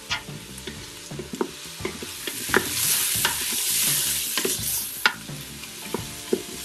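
Onions with a little salt sauté in an Instant Pot, a steady close sizzle under repeated scraping stirs from a utensil against the inner pot, with no voices.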